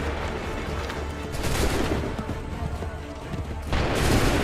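Musket volley in Assassin's Creed 3, a dense crackling burst of gunfire that rolls on, fades, then erupts again near the end, loud and close.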